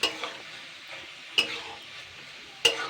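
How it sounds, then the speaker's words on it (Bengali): Fish roe frying in a pan while being stirred, a soft steady sizzle broken by three crisp spatula scrapes against the metal, spaced about a second apart. "জাস্ট তিন থেকে চার মিনিট নাড়াচাড়া করলেই মাছের ডিমটা তৈরি হয়ে যাবে"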